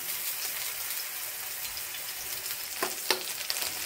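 Eggplant slices fry in hot oil, giving a continuous bright sizzle with a few sharper crackling pops near the end; no talking.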